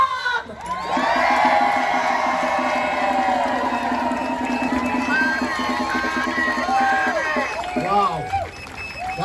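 A large crowd at a Philadelphia rally cheers loudly and steadily for an arriving speaker, with whoops and shouts over a dense roar that holds for several seconds before fading as a voice begins.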